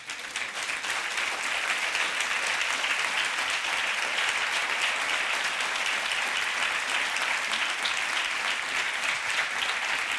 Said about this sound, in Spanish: Aplaude a Jesús.